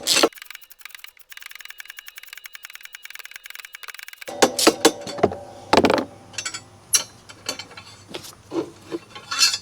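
A small socket wrench works a very long bolt loose on a Ryobi electric riding mower, with a rapid run of ratchet clicks followed by slower, louder bursts of ratcheting and scraping, close up with no talk.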